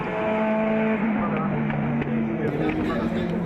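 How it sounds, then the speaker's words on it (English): An LMP race car overtaking around the outside at Fuji International Speedway during an Asian Le Mans Series race, its loud engine holding a steady tone and then shifting pitch, heard under continuous commentary. "no such problems for Eurasia's car number 99 overtaking round the outside here at the Fuji International Speedway"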